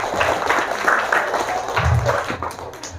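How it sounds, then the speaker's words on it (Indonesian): Applause at a Quran memorization graduation ceremony, a loose, fairly close patter of clapping mixed with crowd murmur and low rumble, thinning out toward the end. "Tepuk tangan luar biasa"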